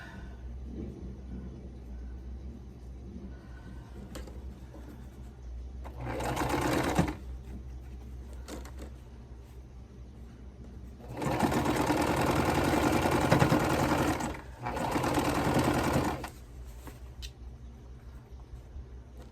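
Sewing machine stitching a quilt: two bursts of fast, steady motor whirring, a short one then a longer run with a brief break, close and loud over a quiet room hum, with no talk.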